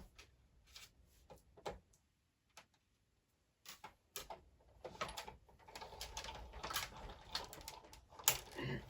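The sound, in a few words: card stock run through a die cut machine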